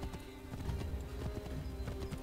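A horse gallops in the video game Assassin's Creed 3, its hooves beating a quick, steady clip-clop close up over a constant bed of game ambience, with a brief whinny-like tone.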